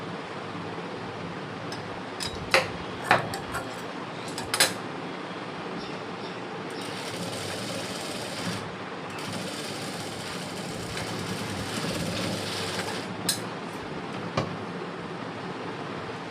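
A sewing machine stitching a lining blouse runs as a steady, even motor hum for the whole stretch, getting a little louder through the middle, with a few sharp clicks near the start and end.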